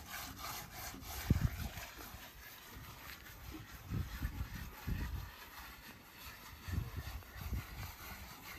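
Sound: rubbing black charcoal liquid onto hut wall

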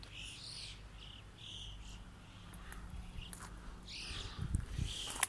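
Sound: blackbirds singing outdoors

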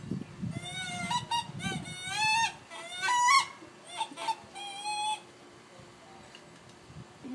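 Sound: wood duck call being blown

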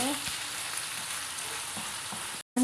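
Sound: minced meat frying in oil for içli köfte

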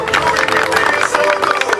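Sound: audience applause at jumpstyle event

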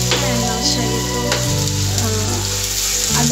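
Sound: red amaranth leaves frying in a pan

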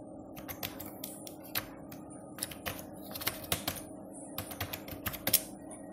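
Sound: typing on a computer keyboard

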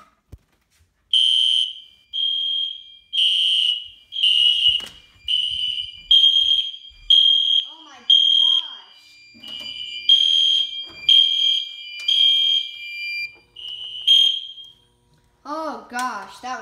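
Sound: fire alarm system test sounding

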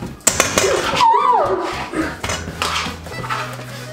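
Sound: mixing butter and sugar in a bowl for cookies

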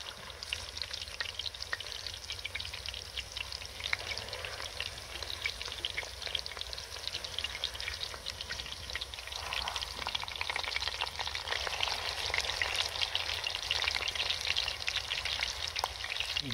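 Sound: seekh kebabs frying in a pan

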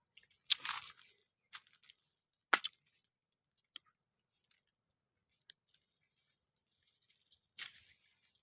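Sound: eating mangosteen fruit

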